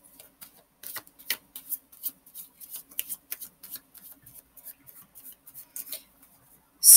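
Tarot cards being shuffled by hand, a run of crisp riffling flicks and soft slaps in an irregular rhythm, close and fairly loud in a quiet room.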